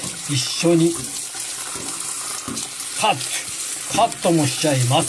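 Shirataki noodles are rinsed under running water for a recipe, splashing and tap flow heard in bursts while someone talks over most of it.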